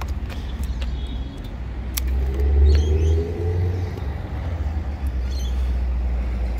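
A 2014 Ducati Diavel Strada motorcycle engine idling after a start, a loud close low rumble that swells briefly then settles into a steady throb.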